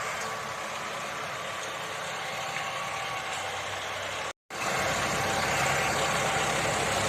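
A tractor engine drones steadily and loudly while ploughing a field being readied for a new flower garden, a continuous rumble with one brief dropout partway through.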